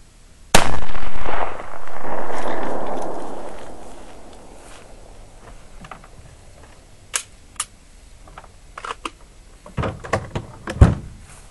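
A single sharp 9mm gunshot cracks out, firing a 115 grain Hornady XTP bullet into a test medium, followed by a long decaying rumble and then scattered small clicks and handling knocks.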